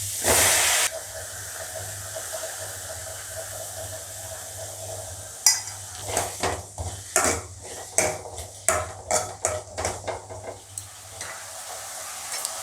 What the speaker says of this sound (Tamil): வெங்காயம் போட்டிருக்கிறேன், அது கூட 2 தக்காளி அரிஞ்சு வச்சுருக்கிறேன், அதையும் போட்டு வணக்கிக்கிறேன்.